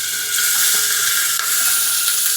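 Rice fries in hot ghee with bay leaves, giving a steady, close sizzle with a bright hiss that holds at even loudness throughout and has no talking over it.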